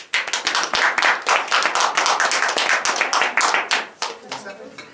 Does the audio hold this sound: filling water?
no